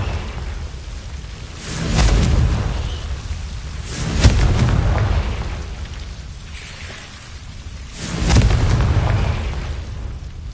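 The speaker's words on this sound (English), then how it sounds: "Confringo!" Confringo fire spell blasts in the video game Hogwarts Legacy: three loud booming bursts roughly four seconds apart, each swelling into a rumbling roar that fades, over a steady low background, with no speech.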